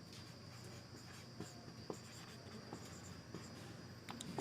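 Chalk or marker scratches and taps across a classroom board during a civil engineering lecture, faint, scattered strokes over a quiet room with a steady high hum.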